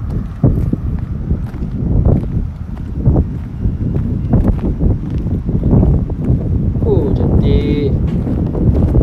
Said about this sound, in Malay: Angin dia boleh kuat dan korang boleh dengar bunyi angin tu.